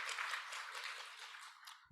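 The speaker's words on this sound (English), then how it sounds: "can we have a round of applause for our speakers" Audience applause, a short burst of many hands clapping that fades slightly toward the end.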